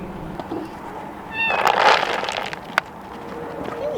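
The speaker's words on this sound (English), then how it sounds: "Also, there's loads of kitties." Several cats meow close by, one loud drawn-out cry in the middle and shorter mews before and after, over faint outdoor background noise.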